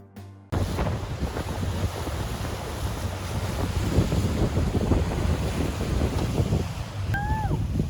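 Strong gusting wind roars against the microphone with heavy waves surging and breaking around a sailboat at sea, a loud continuous rush that starts abruptly after a brief quiet moment.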